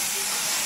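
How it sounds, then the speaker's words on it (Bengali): A pressure cooker releases steam in a loud, steady, breathy hiss that fills the whole brief moment. "এদিকে হচ্ছে প্রেশার কুকারে মেয়ের খাওয়ার হচ্ছে"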